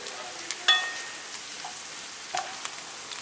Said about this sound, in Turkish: Semizotlarını da ekledim. Şöyle bir karıştırıyorum.